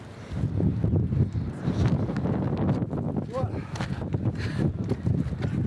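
Wind blows across a mountain footbridge with drops on either side, buffeting the microphone as a steady, rough rush. Footsteps and movement mix into the gusty noise throughout.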